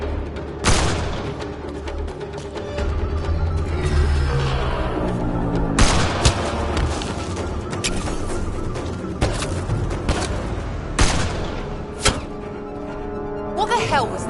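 Video game gunfight with sharp gunshots and booms cracking out repeatedly over a dense, busy soundscape of music and effects, with voices shouting between the bursts.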